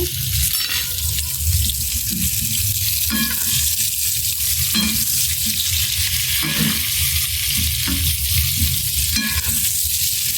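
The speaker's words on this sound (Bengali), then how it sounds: "পেঁয়াজটা লাল করে ভাজা হওয়া পর্যন্ত ভাজবো" Onion, fried potatoes and green chillies fry and hiss steadily in a pan as they are stirred, with loud, regular scrapes of the spatula every second or so and no talking.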